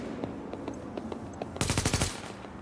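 Video game gunfire from The Division: a rapid burst of roughly six to eight automatic shots cracks out loud and close after a stretch of quiet game ambience, then stops abruptly.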